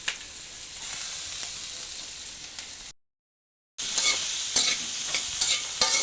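Onions frying in oil in a pan, a steady close sizzle with scraping stirs throughout, broken by a brief gap of silence before the frying resumes louder.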